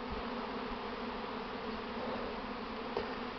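An April honeybee swarm, the first of spring, fills the air with a dense, continuous buzzing drone at steady low volume, with no voices.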